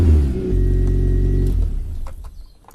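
A Toyota MR2 engine idles steadily after a spark plug change, a strong low hum held for over a second, then fading as faint clicks and thin background sounds take over.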